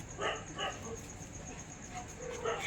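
Several short dog barks and yips, a few spaced bursts at moderate distance over a constant high-pitched whine.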